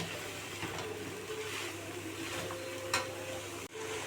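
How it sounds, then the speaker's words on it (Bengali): Taro stolons stirred and frying in oil with spices, a soft continuous sizzle with faint scraping stirs and one small clink, steady and fairly quiet throughout. "ওই তেল আর ফোড়নের মধ্যে লতিকে ছেড়ে দিয়েছি, দিয়ে এবার একটু ভালো করে লতিটাকে নেড়েচেড়ে নিচ্ছি।"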